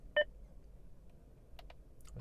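A single short electronic beep sounds from a 2024 Honda CR-V infotainment system as voice command activates, followed by faint clicks inside the quiet cabin.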